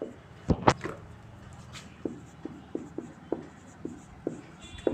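Someone draws a lens ray diagram on a board, making a few scratchy strokes and then a run of short, evenly spaced tapping marks, close and fairly quiet.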